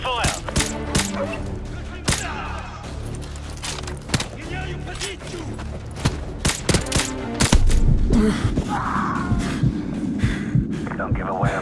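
Gunfire erupts in Call of Duty: Modern Warfare 2 Remastered during the snowy Contingency mission: dense, rapid bursts of sharp shots crackle without pause, loud and close, with heavy thumping impacts mixed in.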